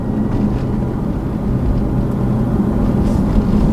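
A 2016 Dodge Challenger Hellcat with a supercharged V8 and a six-speed manual pulls hard in second gear, its engine a loud, steady low roar from inside the cabin.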